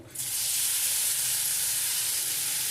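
Bitter gourd dropped into hot oil already holding mustard seeds and urad dal, a loud steady sizzle rising almost at once and holding bright and continuous, with no talking.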